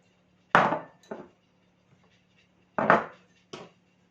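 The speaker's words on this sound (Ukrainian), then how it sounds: "І ретельно все перемішую." Thick cheese mass for an Easter paskha being stirred together with dried fruits and nuts, heard as a few separate dull scraping and knocking strokes with short pauses between them, close by and with no talking.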